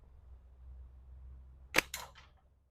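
Pickle fork slingshot (PFS) firing a shot, a single sharp snap up close followed by a quick second crack, alone against faint low background hum.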